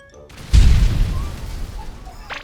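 A grenade in GTA 5 goes off with one heavy, close boom that decays into a rumbling tail, with faint game sounds after it.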